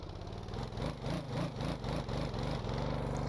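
A boat engine climbs in pitch with rhythmic pulsing surges as the throttle opens, a steady close mechanical drone with no talk.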